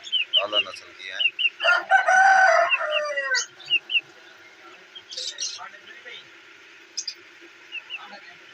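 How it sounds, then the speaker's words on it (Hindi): Village desi chickens cluck near and far while a rooster lets out a full crow, followed by scattered clucks and chirps over a faint background hum. "ये देखें नायाब मुर्गियां हैं, खूबसूरत आला नस्ल की हैं"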